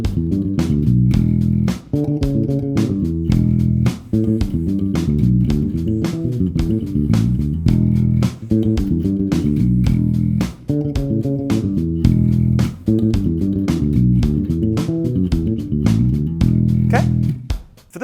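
A bass guitar plays E Dorian scale fills over a groove with drums, loud and continuous, the phrases repeating in regular bars with brief gaps between them.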